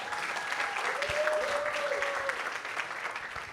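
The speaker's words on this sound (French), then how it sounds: "Merci de l'applaudir encore une fois, mon Lounos." An audience applauds at the NRJ Antilles 2025 trophies awards ceremony with steady, dense clapping that holds an even level for several seconds, and a faint tone runs briefly through the middle.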